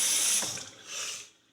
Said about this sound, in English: Take our water jet